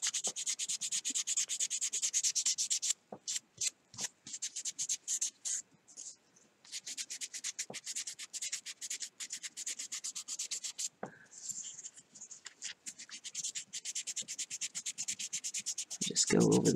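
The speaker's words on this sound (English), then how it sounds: "And this is as low as I go with the sanding." A hand-carved wooden fishing lure is hand-sanded with 320 grit sandpaper in steady, rapid back-and-forth rasping strokes. The strokes are close and fairly quiet, with a few brief pauses and occasional handling knocks.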